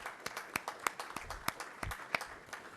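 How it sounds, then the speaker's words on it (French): Sparse, scattered hand claps from a few people in a council meeting hall, a dozen or so distinct claps spread irregularly over a couple of seconds at low level. "oui, on l'applaudit"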